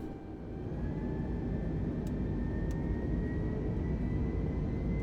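Airliner engines spooling up for takeoff in Microsoft Flight Simulator 2020, a steady broad roar with a low rumble and a faint whine, building slightly and holding loud throughout.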